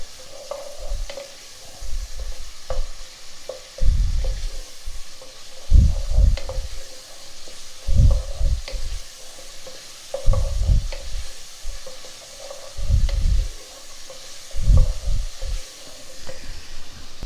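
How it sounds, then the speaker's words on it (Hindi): Chopped tomatoes with cumin seeds stir-fried in a pan for baingan bharta, a steady sizzle broken by repeated scraping stirs of a spoon in a rhythmic pattern, close and fairly loud with no talk. "अब इसे ना अच्छे से भून लेना ताकि टमाटर हमारे ना अच्छे से गल जाए"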